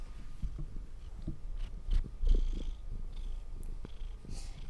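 A cat purrs close up, a low rumbling drone with soft rustles and a couple of brief bumps against the mic.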